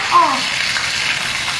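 A rainforest scorpion deep-frying in boiling oil, giving a loud, steady bubbling sizzle with a short squeak near the start and no talking.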